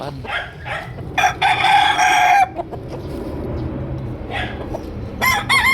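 Sweater gamefowl roosters crow nearby, one long loud crow followed by shorter calls and clucks, with another crow starting at the end amid a noisy yard of fowl.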